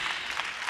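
Audience applause at a women's forum conference, a brief steady burst of clapping from a crowd filling the room.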